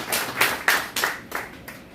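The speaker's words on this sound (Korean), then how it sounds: "우리 박수로 환영하겠습니다" Church revival meeting audience clapping to welcome a guest pastor: a short burst of applause with several distinct sharp claps standing out over a dense patter of hands, fairly close and moderately loud, no talking.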